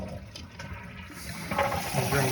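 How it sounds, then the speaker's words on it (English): During apartment maintenance on a toilet with a sticking valve, water runs and gurgles, quiet at first and then swelling into a louder rushing flow of draining water near the end. "I'll drain all the water."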